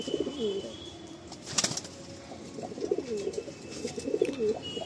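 Black Madrasi pigeons cooing in repeated soft, throaty phrases close by, with brief flutters of movement and steady background noise.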